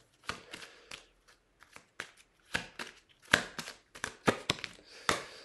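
Tarot cards being handled and shuffled, with crisp irregular riffles and slaps close by in a quiet room.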